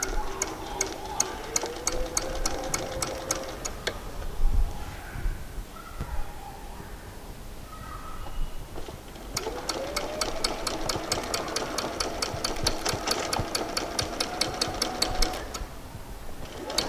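A sewing machine runs a curved seam while stitching down the fly piece of a pair of shorts, in two long bursts of rapid, even, rattling stitches with a pause between them.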